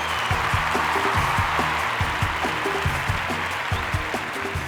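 A studio audience on a Bengali singing reality show gives a singer loud, steady applause, with music from the stage running beneath the dense clapping throughout.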